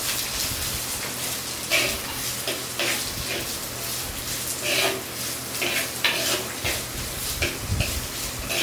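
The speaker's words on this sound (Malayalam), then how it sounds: "അപ്പോൾ ഇനി ഇതൊന്ന് നന്നായിട്ടൊന്ന് വഴറ്റിയെടുക്കണം." Sliced onions sauté in an oil-coated pan for a sour bell fruit curry made without fish, giving a steady broadband sizzle broken by repeated scrapes and stirs of a spatula, close and fairly loud, with no talking.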